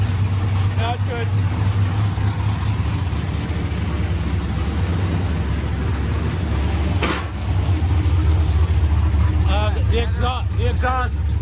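An LT1 V8 running in a 1996 Impala SS race car on its first start, a loud steady idle rumble filling the whole stretch with a brief dip, while people talk over it.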